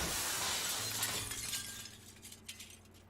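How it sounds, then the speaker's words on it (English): Window glass shattering in the game Seduce Me 2: Demon War, a loud crash and burst of breaking glass followed by scattered tinkling shards that fade away, heard alone. "With a crash, the window behind us shattered, with Diana flying out of it."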